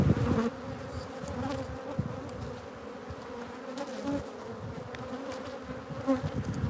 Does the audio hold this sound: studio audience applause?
no